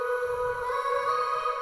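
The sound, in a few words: vocal sample from a song, sped up to 2x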